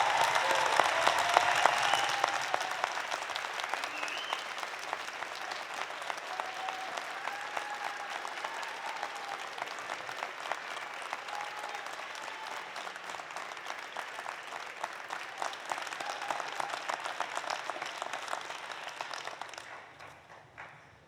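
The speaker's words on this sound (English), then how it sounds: "give them a huge round of applause" Large audience applauding at a University of Alberta fall convocation ceremony, sustained dense clapping from a big hall that stays steady for about twenty seconds before fading out at the end.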